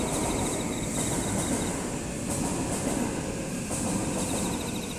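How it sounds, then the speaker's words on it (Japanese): Train passes nearby with continuous rattling and rumbling wheels on track, steady and fairly loud, alone without talk. "ガタンガタン言うてんのは電車です。"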